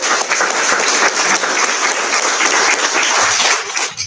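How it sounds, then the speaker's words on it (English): A round of applause fills a school board meeting room, with loud, sustained clapping from many people at steady intensity that tapers slightly at the very end. "Another round of applause."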